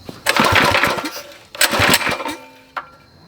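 A Predator 212 engine swapped onto a minibike cranks and catches, running in two loud, rough bursts of about a second each, then sputtering off, with a brief sharp clunk near the end.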